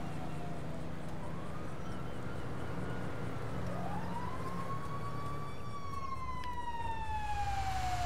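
A fire truck siren in the video game Grand Theft Auto V wails in long rising and falling sweeps over a constant low engine and traffic rumble, moderately distant and growing clearer toward the end.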